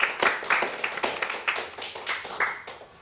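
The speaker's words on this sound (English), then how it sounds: "give him a round of applause, because I'm sure it's going to be wonderful" A small lecture audience applauds a speaker who has just been introduced, with a few hands clapping at an uneven rhythm and overlapping one another for about three seconds, fairly close and moderately loud.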